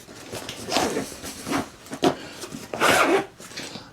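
Zipper on a tomtoc travel bag being pulled shut in several short, raspy strokes, close and moderately loud, with the longest tug near the end.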